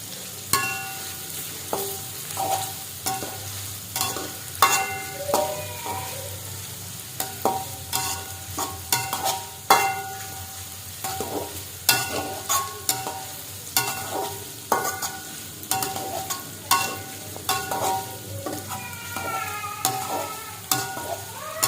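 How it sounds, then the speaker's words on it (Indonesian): Shallots stir-fried in a pan for chicken soup, with a steady soft sizzle broken by frequent clinks and scrapes of a spatula against the metal, close and fairly loud, no voices. "untuk bawang merahnya juga kita masak sampai dia nanti mengeluarkan kayak layu ya, atau nanti ada aroma dari bawang merah yang kita tumis ini"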